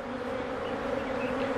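Honey bees from a hive hum in a steady, dense, close buzz that stays level throughout with no talking.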